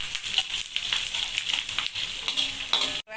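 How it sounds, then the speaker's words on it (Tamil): Ingredients sizzle in hot oil in a pan for a tapioca stir-fry, with a bright continuous hiss and irregular scraping stirs close by, ending abruptly. "சேர்த்துட்டு எண்ணெயிலே நல்லா கிண்டி விடுங்க"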